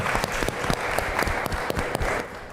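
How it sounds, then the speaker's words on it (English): A conference crowd at the Quantum World Congress 2024 applauds the companies who presented, a dense burst of many hands clapping with sharper individual claps standing out. "We will give them a round of applause and thank them."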